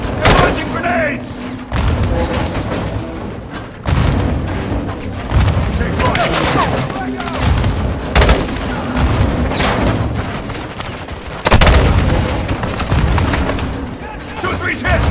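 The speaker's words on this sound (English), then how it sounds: "Incoming! Take cover! They're launching grenades!" Grenade explosions and gunfire in Call of Duty: Modern Warfare 2 on PS5, several heavy booming blasts spaced a few seconds apart amid steady close gunfire, with soldiers shouting throughout.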